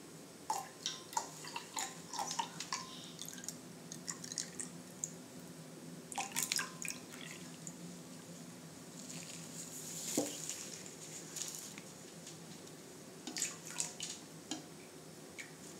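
Borax solution is poured slowly into a glitter slime mixture while it is stirred, making quiet drips, small wet splashes and sticky squelches in irregular bursts, close and faint, with no talking.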